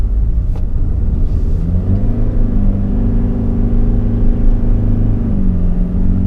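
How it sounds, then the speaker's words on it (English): A 2021 Toyota Sienna's small four-cylinder hybrid engine drones and strains under load, its pitch climbing and then holding steady in a constant, loud mechanical hum. "The little four-cylinder engine, even with a hybrid push, kind of makes a lot of noise."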